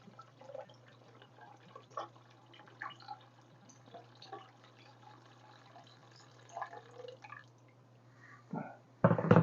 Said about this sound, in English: Now, we cover it with water and simmer it for about 5 hours.